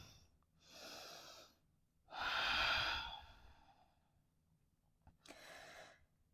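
Three slow, deep breaths are drawn and released during a yoga flow. Each is a long, airy rush, close and otherwise quiet, with brief silences between them.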